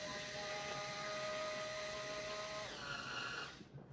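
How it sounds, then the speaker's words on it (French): A handheld electric cleaning brush spins in a bathroom with a steady, close, high motor whine and buzzing hum. Its pitch shifts partway through, and the motor winds down and stops at the end. "En fait, c'est une brosse électrique."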